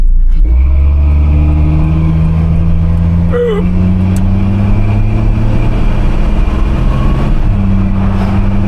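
A 1981 squarebody truck accelerates hard from a stop sign. Its loud, close engine drone climbs steadily in pitch, dips briefly near the end, then pulls on.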